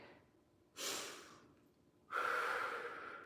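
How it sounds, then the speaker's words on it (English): Two long, heavy breaths during a workout interval, a rushing inhale then a louder, drawn-out exhale, close and alone with no talking. "Big inhales, big exhales."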